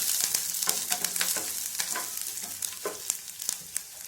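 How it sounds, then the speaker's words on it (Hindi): Finely chopped green chilies and garlic fry in a pan for veg momo filling, a steady close sizzle broken by frequent crackling pops and the clink of stirring throughout, with no voices. "इसमें ही ये हरी मिर्ची है बारीक कटी हुई, इसे डाल दें और सभी को अच्छी तरह से भून लें।"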